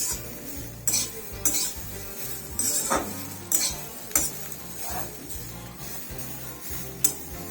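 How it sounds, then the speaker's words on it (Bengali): Grated carrot fried in a pan for Bengali carrot laddoos, stirred with a metal spoon that scrapes and knocks against the pan in a steady rhythm of clinks over a soft background sizzle, with no talking. "গাজরটা দিয়ে দিয়েছি, গাজরটা একটু ভাজা ভাজা হয়ে যাবে"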